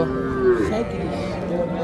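A crossbred calf moos once at Hazratpur cattle market near Dhaka, a drawn-out nasal bellow close by, followed by quieter background noise.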